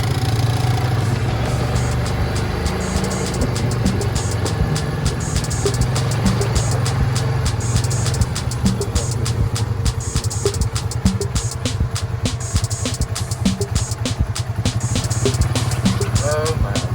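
An ATV engine runs at a close, steady rumble with rapid ticking pulses, sustained throughout on a ride in Cabo San Lucas, Mexico.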